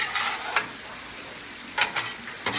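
Mushrooms sautéing on a grill beside grilled spaghetti, giving a steady close sizzle broken by a few scraping stir strokes, with no voices.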